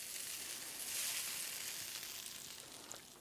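Onion fries in a pan for mota chawal, a steady, soft hiss of sizzling oil that continues evenly throughout, with no voices.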